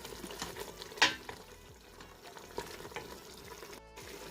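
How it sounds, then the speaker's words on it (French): Tajine magnum sauce sputters and fries in the pan after hot water is added, a soft low sizzle with a brief stirring clatter near the start and a short sharp burst toward the end. "هنايا نزيدو شويه ماء اللي كنا مسخنينو البنات ونخليوه يتقلى ثاني"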